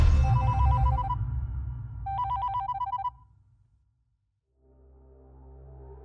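A telephone rings in two loud bursts of trilling electronic tones, separated by a short pause, before falling silent; low rumbling background sound accompanies the rings, and a quiet low hum follows.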